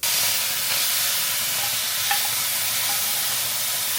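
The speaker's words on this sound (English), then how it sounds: "I just added some tomato puree to my prawns." Prawns frying in a pan with tomato puree, giving a loud, steady close sizzle with occasional stirring scrapes, no voices.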